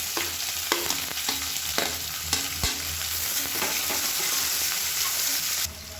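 Onion frying in a pan for paneer kurma, with a dense continuous sizzle and occasional stirring scrapes and taps, close and loud with no voices.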